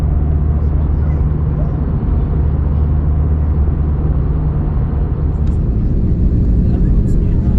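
Steady, loud low-pitched cabin rumble aboard an airliner flying over Azerbaijan before landing on a flight from Abu Dhabi, droning continuously with no break.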